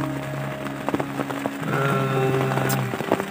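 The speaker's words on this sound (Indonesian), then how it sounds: "Di sini juga sedang diguyur hujan" Rain falls on Gunung Canggah, a mountain near Cisalak in Subang, West Java, as a steady broadband patter with scattered louder drop impacts throughout, close and continuous, with no voices.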